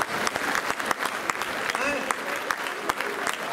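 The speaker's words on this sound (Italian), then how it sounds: "vi prego, un applauso adesso," The men in an outdoor piazza audience at a comedy show clap on cue, a fairly soft, uneven patter of applause with distinct individual claps standing out.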